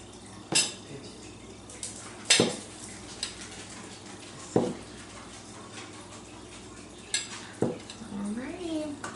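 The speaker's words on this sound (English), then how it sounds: "Quick stir and get everything all mixed in there" A spoon scrapes and clanks against the inside of a Quick Cooker pot while jambalaya gets stirred, several sharp knocks spaced a couple of seconds apart over a soft background, with a brief faint whine near the end.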